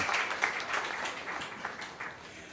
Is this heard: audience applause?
yes